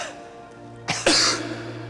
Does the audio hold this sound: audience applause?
no